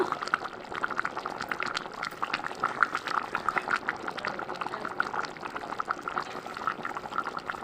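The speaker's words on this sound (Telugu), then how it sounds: "ఉడుకుతుందండి, ఉడికిపోయింది. ఇంకా కొంచెం ఉడకాలి." A pot of country chicken curry bubbles at a steady boil, with continuous close gurgling and popping and no talk over it.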